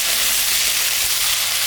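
Eggplant, okra and potato fry in oil in a pan with a steady, loud, continuous sizzle close by and no talking.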